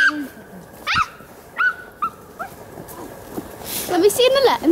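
A dog barks and yips several times, fairly close, with a few short whimpery calls and a burst of louder barking near the end over background noise.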